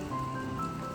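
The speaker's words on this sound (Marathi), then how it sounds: "मध्येच पडणारा रिमझिम पाऊस" Light drizzle at a hill resort near a green fort, a steady soft patter of rain, faint and continuous without pauses.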